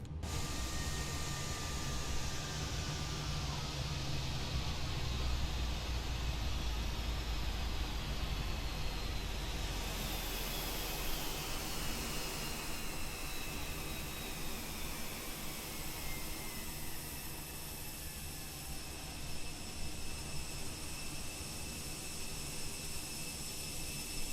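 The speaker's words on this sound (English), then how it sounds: "Alright, those are the IAE engines." IAE jet engines in Microsoft Flight Simulator 2020 spool down after shutdown, a faint whining roar with falling tones fading steadily into quiet background hiss.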